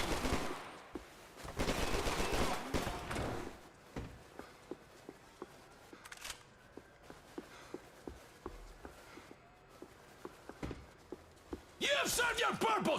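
Gunshots ring out in the video game Max Payne 3 as a lamp is shot at. Dense loud bursts open and close the passage, with a regular run of sharp single shots between them.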